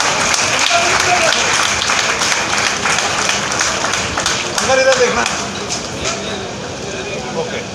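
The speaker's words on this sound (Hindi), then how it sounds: "जोरदार तालियां।" Crowd at a public event giving loud, continuous applause, a thick rattle of clapping hands with a voice talking over it through a loudspeaker and a few sharper claps standing out.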